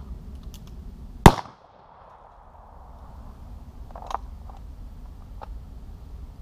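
A single sharp, loud gunshot from a Cimarron Colt .45 revolver cracks out early, followed by quiet outdoor ambience and a few faint clicks and handling noises.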